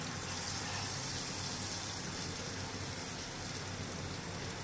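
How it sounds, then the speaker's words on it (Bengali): Battered shrimp lowered into a pan of hot oil for deep-frying, giving a steady, even sizzle and hiss that holds at a constant level with no pauses and no voices. "ডুবিয়ে এবার তেলে ছেড়ে দিচ্ছি।"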